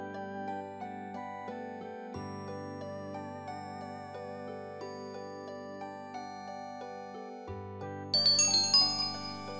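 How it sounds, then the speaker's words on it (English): Wind chimes are played in a RuneScape player-owned house chapel, giving a sustained electronic chime tune of layered bell-like tones over several seconds, ending in a brighter jingling flourish. "here's my Bob the Cat chapel with wind chimes you can play."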